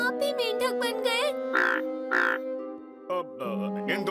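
A cartoon frog croaks in a series of cartoonish, voiced croaks, some rising and warbling, some drawn out, loud and close with short gaps between them. A voice appears to imitate the frog.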